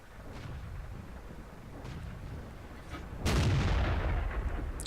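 A tank cannon fires in a World of Tanks style game, a single heavy booming blast with a rumbling tail, heard after several seconds of low battlefield ambience.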